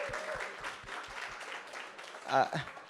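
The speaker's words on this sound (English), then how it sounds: "A big round of applause for them as well." Applause from a seminar audience honouring a startup team at a fitness-company talk, a continuous patter of many hands with a few sharper low thumps early, building to a louder swell near the end.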